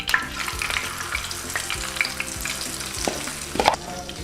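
Egg omelet mixture sizzles on a hot tawa over a lowered flame, a continuous close crackle with faint rhythmic hum beneath and a few sharper clicks near the end.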